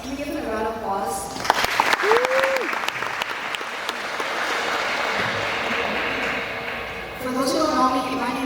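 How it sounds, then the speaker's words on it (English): A graduation audience applauds a teacher in a long, steady wash of clapping with scattered voices and a brief whoop, easing off toward the end as a speaker begins talking. "Can we give him a round of applause?"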